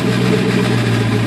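Straight-piped exhaust on a 2009 Pontiac G8 GT with mufflers and resonators deleted, rumbling loud and close at a steady, deep idle with no voices.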